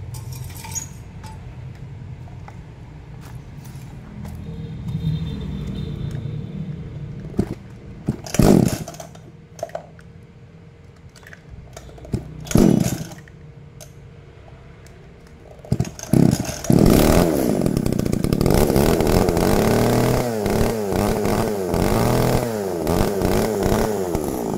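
A used Japanese-import chainsaw, one of a batch including Husqvarna 339, STIHL 021 and ECHO 401 models, is pulled and started: sparse cranking pulls and sputters, then the engine catches and runs loudly and steadily up close.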